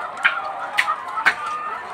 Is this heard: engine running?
no